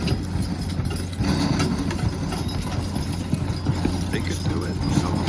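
Hooves of a draft horse team pulling a load at a county fair horse pull, a dense rumbling clatter with an engine droning beneath and voices talking nearby.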